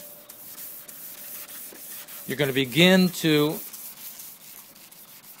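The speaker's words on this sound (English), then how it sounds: "begin using the 1000 sanding disc horizontally across the light fixture" A car headlight lens being wet-sanded by hand with a 1000-grit sanding disc in horizontal strokes, part of a Meguiar's restoration kit; a steady, close rubbing hiss runs throughout, partly under a voice.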